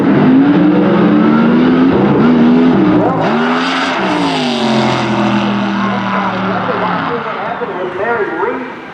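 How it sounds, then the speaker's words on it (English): Funny Car drag racing at Albuquerque Dragway, with a loud, sustained engine roar that shifts in pitch as the cars run, heard under continuous commentary. "Funny Car Chaos Championship Tour Racing Action at Albuquerque Dragway for the very first time."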